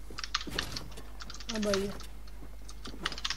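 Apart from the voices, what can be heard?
computer keyboard typing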